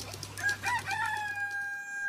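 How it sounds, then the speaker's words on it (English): A farm rooster crows one clear, drawn-out cock-a-doodle-doo, rising and then holding a long tone, moderately near, with a low steady hum underneath. "When the rooster crows and the sun comes up"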